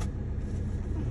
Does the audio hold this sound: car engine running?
yes